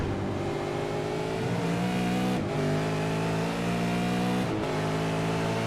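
A New Zealand V8 Supercar engine howls continuously at high revs, a loud harmonic-rich roar with two brief dips where the clutch is pushed and the pitch drops before climbing again.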